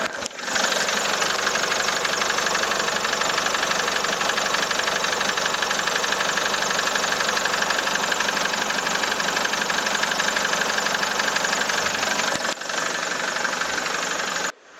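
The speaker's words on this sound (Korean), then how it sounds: "이렇게 차량 엔진 소리까지 한번 들어보셨습니다" A diesel 2018 SsangYong G4 Rexton SUV engine idles steadily and close by, a constant even rumble with a brief break near the end.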